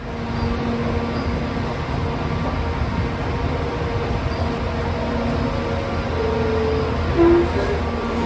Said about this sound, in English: It's very hard to hear me because it's a diesel and also the ventilation noise in this station is super loud